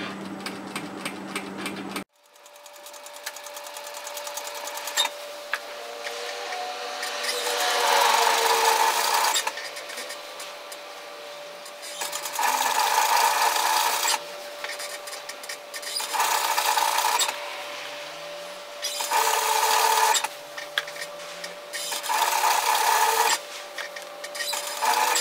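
Sewing machine stitching around the neckline of a puff sleeve top, keeping an even width from the fabric edge: steady whirring runs in repeated bursts of a few seconds each, with short pauses between, close and fairly loud with no talking.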